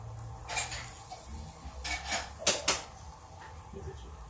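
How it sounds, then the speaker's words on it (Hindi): Pumpkin dish seasoned with black pepper and black salt being strained through a plastic strainer in a home kitchen, giving a few soft clatters and taps of utensils against the strainer and bowl, with two sharper knocks near the middle. "प्लास्टिक की छन्नी से छानिए।"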